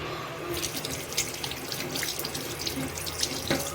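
Tap water runs steadily into a sink while fish are washed and cleaned, a close, continuous splashing stream with no voices.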